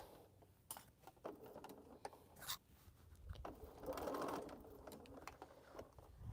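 A sewing machine stitches down the middle of a tote bag held with pins and clips, its motor running in short uneven bursts with pauses and a steadier longer run near the end, quiet and close.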